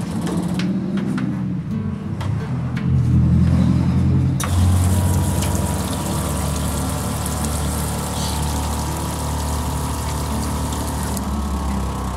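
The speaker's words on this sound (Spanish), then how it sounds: "Ahí escucha el ruido y se vuelve a parar la bomba." A small water pump in a handmade mini camper with a solar panel and hot water system whirs steadily up close, with water running through the plumbing and a brief surge in the middle.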